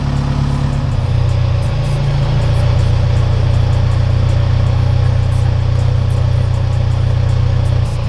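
A Toyota GR86 with a swapped-in IS300 rear differential idles in first gear, giving a loud, steady low engine drone close by that changes slightly in pitch early on, with no talk.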